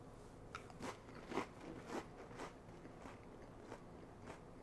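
Someone near the microphone bites into saltine crackers topped with moonfish ceviche, with a series of quiet crisp crunches followed by soft chewing at an irregular rhythm, no talking.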